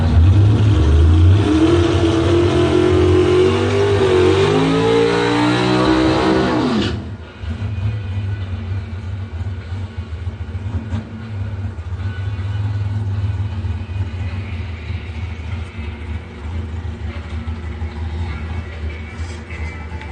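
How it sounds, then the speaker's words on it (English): A 1992 Chevrolet Camaro doorslammer with a 702-cubic-inch engine launches in a bracket drag race, its engine screaming loudly through rising revs for several seconds before cutting off to a distant low rumble. "John Kudzik, 92 Camaro next."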